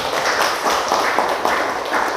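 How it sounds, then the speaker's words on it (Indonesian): Students in a classroom clap together, a steady ongoing round of applause lasting the whole moment with slight swells, fairly loud and close. "terima kasih ya, tepuk tangan"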